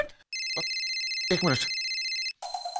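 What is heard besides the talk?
telephone ringing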